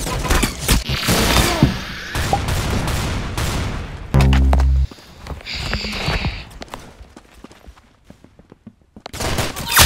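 Rapid bursts of gunfire from the online shooter game Arsenal, with dense volleys and single cracks firing in clusters, a sharp boom partway through, and a brief lull before the shooting picks back up.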